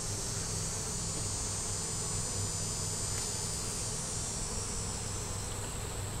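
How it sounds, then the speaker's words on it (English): Bees buzz in a dense, steady drone as they fly around in front of a beehive. The hum stays close and continuous, with no voices. "y'all see all these bees flying around me, and that's because I'm sitting in front of the hive"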